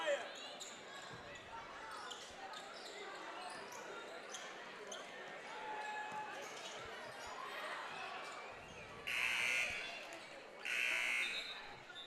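A loud shot clock buzzer sounds by mistake during a high school basketball game, two sustained blasts over crowd noise and ball bounces in a gym.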